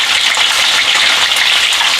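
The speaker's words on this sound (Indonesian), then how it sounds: "Terus selanjutnya goreng telurnya ini ya" Egg whites fry in a pan of hot oil, a dense, loud, steady sizzle and crackle heard close up with no voices.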